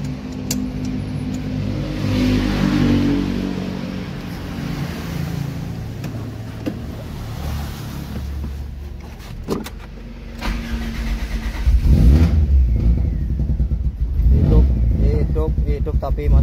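A fuel-injected car engine converted to run on LPG idles roughly and is revved repeatedly, unable to hold a steady idle, the revs rising and falling in uneven bursts, with people talking nearby.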